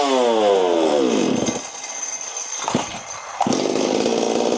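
A Stihl 026/MS260 chainsaw revs loud and high, its pitch falling as the engine drops back, then sputters, catches again and returns to a steady full-throttle roar.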